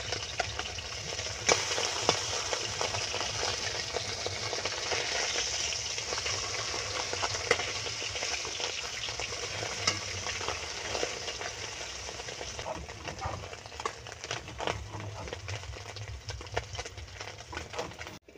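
Small mourola fish, rubbed with salt and turmeric, fry in hot oil with a steady, dense sizzle and crackle that runs throughout, moderately loud with occasional sharper spits and no talking.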